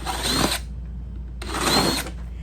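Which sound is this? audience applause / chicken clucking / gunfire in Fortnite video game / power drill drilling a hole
power drill drilling a hole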